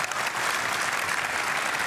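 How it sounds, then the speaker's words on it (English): Dense, loud audience applause at the GT World Series 2024 World Finals fills the whole moment, a steady wash of many hands clapping together without pause. "Give a round of applause for these two."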